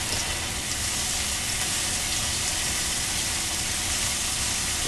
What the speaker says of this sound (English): Look, fancy chef technique. It's called sauteing.